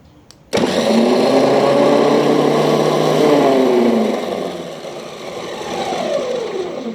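Hi-Winch X-13500 two-speed electric winch running in high gear, a loud steady motor whine that starts abruptly, holds, then eases off slightly with a falling pitch near the end.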